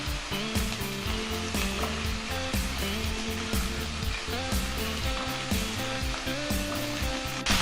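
Food frying in a pan and being stirred, a steady loud sizzle with rhythmic scraping strokes, no talking.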